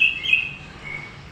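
A green leafbird (cucak ijo), a songbird kept in an over-excited or over-emotional state, gives a short, high, fairly faint chirp that quickly fades against quiet background noise.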